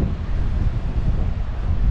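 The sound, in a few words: strong wind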